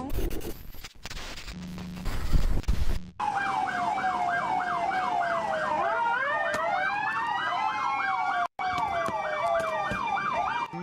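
An ambulance siren in Los Angeles wails in a fast, repeating up-and-down pattern, loud and continuous, after a brief stretch of other noise; a second siren tone seems to overlap partway through.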